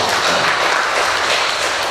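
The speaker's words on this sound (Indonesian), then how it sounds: "Tepuk tangan yang meriah Bapak Ibu." Audience applause after a school principal's address at an Indonesian school event, a steady dense wash of clapping filling the whole short stretch with no voices over it.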